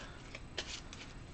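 A deck of cards being shuffled during a tabletop card game, a short close riffle of quick papery flutters and snaps.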